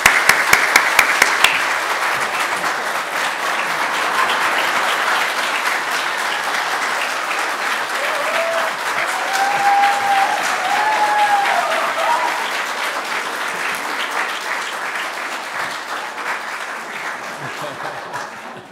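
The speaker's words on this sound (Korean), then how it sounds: "우리 박수로 맞이하겠습니다." Sustained applause from a church congregation welcoming their pastor, a dense, steady clapping wash lasting well over fifteen seconds at moderate loudness, with a few sharp claps at the start and faint voices underneath.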